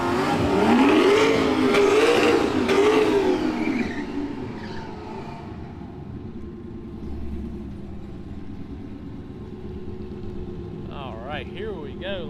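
A turbocharged Coyote-engined drag race car revs hard and loud in the staging lane at a packed Shadyside drag strip street-racing event, its pitch rising and falling before settling into a lower, steady rumble with background voices and other engines.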